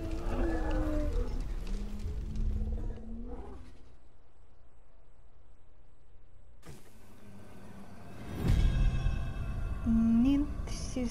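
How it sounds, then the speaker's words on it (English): Cow mooing in Star Wars Jedi: Fallen Order gameplay, a low drawn-out moo at the start, then a quiet stretch, a mechanical whoosh and a second shorter low moo near the end. "Beautiful cow."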